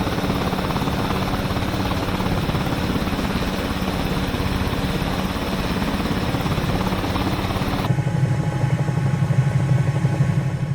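Continuous twin-turbine rotor and turbine drone of a Bell 222B helicopter in Microsoft Flight Simulator, loud and steady, shifting abruptly to a deeper, thumping engine tone near the end.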